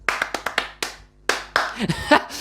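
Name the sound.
applause in video game Project Cars 2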